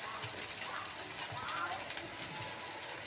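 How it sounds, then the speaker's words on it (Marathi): Soaked poha is stirred in a pan with a spoon, a soft continuous scraping and faint sizzling with occasional light clinks, quiet and close. "छान मिक्स करून घेऊया."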